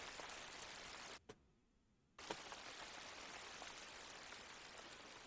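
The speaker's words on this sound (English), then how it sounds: "Now that it's raining, they're going to go indoors." Steady rain patters continuously with a fine hiss in the video game Farthest Frontier, interrupted by a brief near-silent gap before the downpour resumes.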